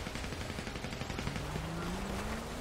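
Gunfire in a video game: dense, continuous rapid shots over a loud steady background, with a rising engine-like whine underneath for the whole stretch.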